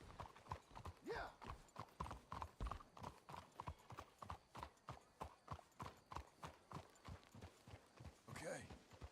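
Horses' hooves clip-clop steadily in Red Dead Redemption 2, a rapid even rhythm of close, loud hoofbeats under talking voices, with a brief horse whinny near the end.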